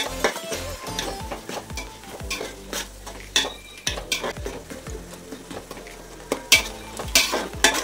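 A spoon scrapes and stirs through a sizzling pan of masala for prawn biryani, with repeated knocks and clinks against the metal, close and busy.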